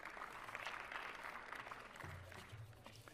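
Conference audience applauding a health minister, a faint steady patter of clapping from many hands that carries on throughout at a distance.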